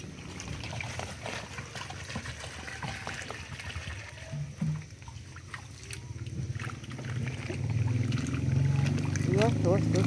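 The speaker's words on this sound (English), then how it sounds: "You have to wash those pumpkins" Pumpkins being washed by hand in water in a village setting, with sloshing and trickling that swells louder toward the end, while a person talks over it.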